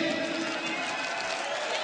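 Crowd at a NOFX punk concert claps and cheers in a steady, roaring wash of noise, loud and continuous throughout.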